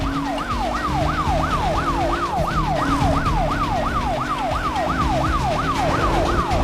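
Police siren during a chase in Need For Speed Most Wanted: a rapid, continuous wailing yelp repeating about three times a second, loud and close over a steady engine and road roar.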